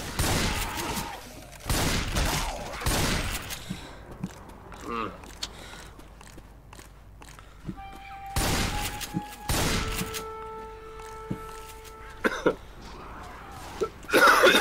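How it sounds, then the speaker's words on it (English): Shotgun blasts in the Left 4 Dead video game come as loud, broadband booms in quick clusters, separated by quieter in-game noise and tonal sounds. "Gosh, I love shotguns."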